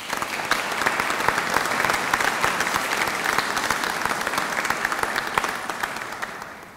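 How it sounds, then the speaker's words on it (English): Warm, sustained applause at a 2018 Fine Art graduation conferring ceremony, many hands clapping steadily for several seconds in a large hall before fading slightly. "I'd just like to ask you to give them a round of applause."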